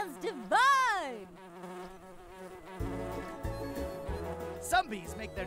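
Buzzing of a cartoonish bee in the video game Nature Cat: Pollinator Pathway, with rising and falling pitch swoops, set against bright game music and a brief chime-like jingle near the end.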